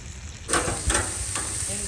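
Sea bass sizzling over a campfire at a park campsite, a steady close frying hiss that swells after a quiet start, with a few brief louder bursts.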